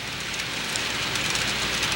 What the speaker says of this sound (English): Train's going in the helix